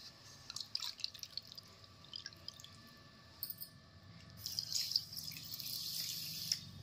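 Water trickles and drips into a pot of sugar while syrup is being made, faint at first and then building into a steadier splashing pour near the end.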